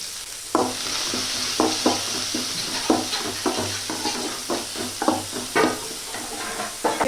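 Onion and crushed garlic sauté in a pan with a steady oily sizzle, while a spatula scrapes the surface in regular strokes roughly every half second, close and clear.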